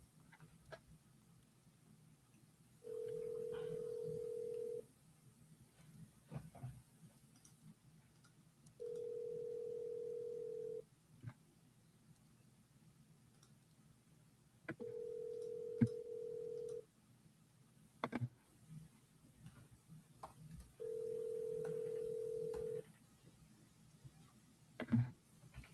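Telephone ringback tones while a call goes through to a number, four long steady beeps about two seconds each, evenly spaced several seconds apart, moderately loud over a faint background with scattered small clicks and no speech.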